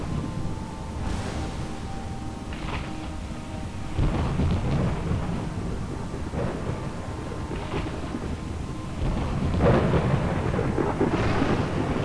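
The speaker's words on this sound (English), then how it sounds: "I love that thunderclap sound." Thunderclap effect in the space combat game Wing Commander Saga, deep rumbling booms rolling in several times over steady broadband noise resembling a storm, fairly loud with no talk.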